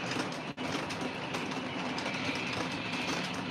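An O scale Lionel model train locomotive with a smoke unit running, a steady close rumbling and whirring with faint rhythmic clatter that continues without pause.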